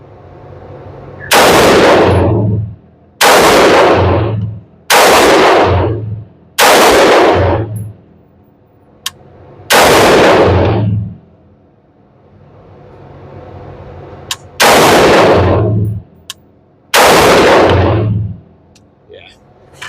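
Geissele Super Duty AR15 rifle firing 5.56 rounds at a range, about eight loud, booming shots in an irregular slow sequence, each with a short echoing tail, with quiet gaps and faint ambient noise between.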